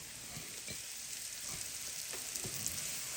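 Mushrooms fry in a pan after bacon, giving a steady, fairly quiet sizzle with faint crackles and the occasional light stir, and no voices.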